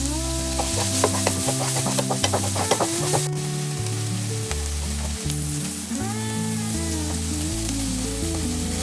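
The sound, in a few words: sabzi frying in a pan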